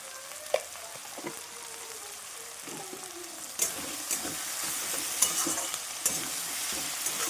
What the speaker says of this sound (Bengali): টমেটোটাও খুব ভালোভাবে কষিয়ে নেব